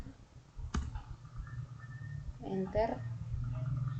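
Keystrokes on a computer keyboard while a PHP script is typed, a sharp click early on followed by sparse tapping, with a person talking over it.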